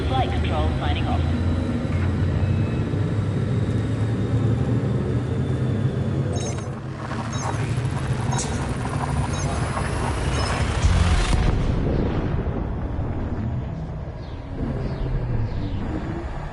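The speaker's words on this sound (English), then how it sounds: "Frameshift drive charging" A frameshift drive in the space game Elite Dangerous charges and then jumps: a rising hum that swells into a loud whooshing roar and then fades, with game music and effects throughout and a synthetic voice over the top.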